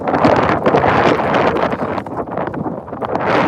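Strong wind gusting across an outdoor high school boys' soccer field, buffeting the microphone with a loud, continuous rumbling roar that swells and dips, with faint rustling of leaves.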